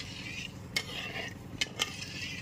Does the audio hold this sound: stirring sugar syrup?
yes